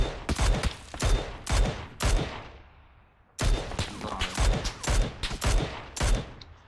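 Sharp volleys of gunfire in PUBG ring out in quick clusters. They drop to a fading echo, then resume in another rapid string of loud shots.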